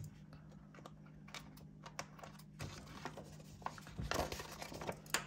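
A Halloween-themed dollar store sticker is trimmed for a Happy Planner spread, producing quiet, close, crisp snips and light paper crinkling. The sounds come in an irregular, tapping rhythm.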